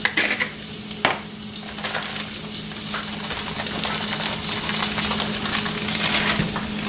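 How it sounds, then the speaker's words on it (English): Apples with brown sugar, white sugar and a dash of salt stirred in a frying pan, a continuous close sizzle with scraping utensil strokes and a few clinks at the start. "now that I have my brown sugar, apples, a little bit of white sugar, and a dash of salt in there, mix everything around"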